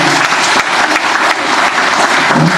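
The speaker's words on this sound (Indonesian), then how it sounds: "Kita berikan aplaus kepada semua." An audience at a Golkar party national working meeting applauds, a dense, loud burst of clapping from a large crowd that carries on without a break.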